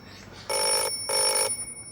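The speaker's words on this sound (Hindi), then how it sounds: "आप टेलीफोन अटेंड कीजिए" A telephone rings in two clear, loud electronic bursts separated by a short pause, with no talking.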